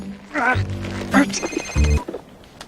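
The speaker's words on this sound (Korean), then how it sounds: "은행 상사의 감시 전화." A telephone rings in short bursts behind overlapping speech, the ring tones standing out clearly for a moment amid talk.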